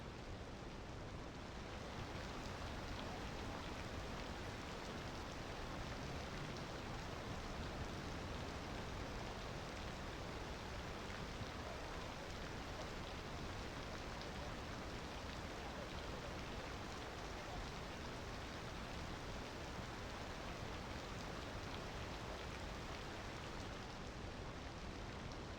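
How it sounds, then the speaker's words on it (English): Steady, dense hiss of rainfall in the video game Cities: Skylines, constant and even throughout with no pauses, like a heavy downpour heard from nearby. "It's raining."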